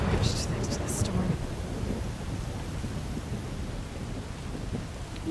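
A thunderstorm in the Horizon Forbidden West video game: steady rain and a low thunder rumble fill the scene, with a few brief crackling sounds near the start.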